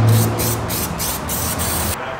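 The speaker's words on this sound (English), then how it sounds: "So I'm just going to quickly spray out this." An aerosol can sprays in a loud, continuous hiss, pulsing in short rhythmic bursts, close up, cleaning around a Toyota 2JZ VVTi cam gear.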